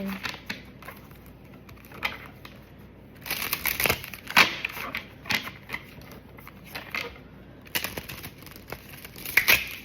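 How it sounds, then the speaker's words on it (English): A deck of tarot cards being shuffled by hand, with bursts of riffling and crisp card slaps that come and go, fairly close and moderately loud, with quiet pauses between. "I'm not even finished shuffling yet."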